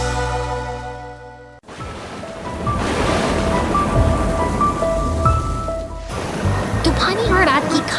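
Stormy rain shower in a cartoon, a broad steady wash of rain and wind noise that stays loud throughout, under a music score with tones and a brief quiet start.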